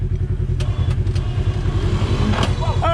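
An ATV engine at an off-road park, running as it is given gas while stuck, a loud steady rumbling drone held close throughout with brief voices at the end.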